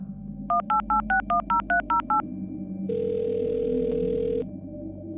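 A phone keypad dialed in a quick run of nine tones, then a steady ringback tone for about a second and a half, close and clear over a faint low hum.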